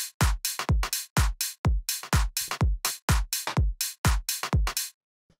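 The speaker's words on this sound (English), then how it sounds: "the drums, which sound like this all together." Melodic bass house drum samples play together as a punchy electronic loop of rapid, evenly spaced kick and snare hits with deep low thumps. The loop is loud and dry, then stops abruptly into silence.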